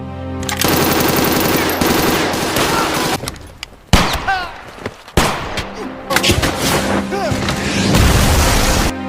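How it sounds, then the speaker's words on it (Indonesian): Dense gunfire from a war film battle between soldiers and German troops, with rapid machine-gun bursts, single shots and booming blasts, loud and sustained throughout beneath music and effects, with brief voices in between. "Lalu terjadilah baku tembak antara mereka dan tentara Jerman."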